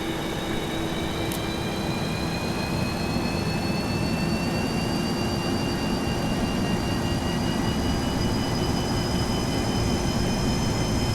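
Boeing 737-200 jet engines spooling up in X-Plane 11, a steady, loud roar with rising whining tones over a constant rumble, without interruption.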